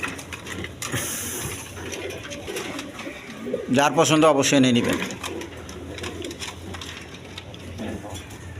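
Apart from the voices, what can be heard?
Indian Bombay pigeons cooing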